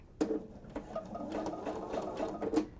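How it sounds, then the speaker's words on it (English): A sewing machine stitches a zipper onto fabric for a wallet, running in a steady rapid chatter with a few sharper clacks at the start and end, close and alone. "And you do not want to sew past the 5/8 inch mark on your fabric."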